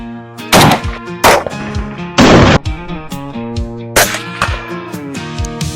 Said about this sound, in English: We're going to be testing the HKCC9 with some ballistic gel, and we're going to be looking at the Critical Duty 135 grain.